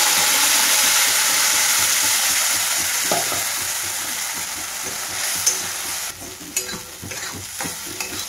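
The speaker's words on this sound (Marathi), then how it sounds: "छान तेल सुटेपर्यंत आता ती भाजून घेते" Spice paste of ginger, garlic, tomato and onion frying in oil, a loud continuous close sizzle that gradually eases, with stirring scrapes and clinks toward the end, no talk.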